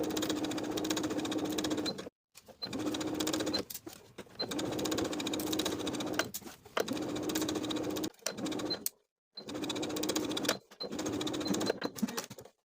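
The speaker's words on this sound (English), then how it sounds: "Now I'll sew the bias tape in place from center front all the way around to the opposite center front with a 3/8 inch seam allowance" A sewing machine stitches bias tape onto a bodice with a 3/8 inch seam allowance, running in several fairly quiet bursts of steady needle chatter separated by short silent pauses.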